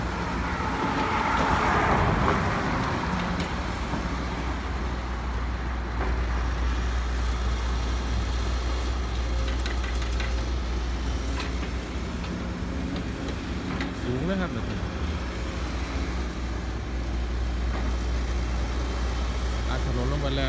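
A Japanese-made Case excavator engine runs with a steady low rumble and a constant mechanical drone, close by, while someone talks over it.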